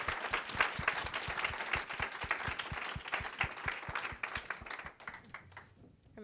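A conference audience gives a sustained round of clapping for the panelists and moderators, dense and lively at first, then thinning into a few scattered claps as it fades.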